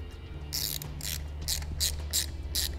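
A hand ratchet tightens a nut over a ring terminal while trailer wiring is fitted to a 2016 Chrysler Town and Country, giving six quick bursts of crisp clicking at an even pace, faint but distinct against a low background hum.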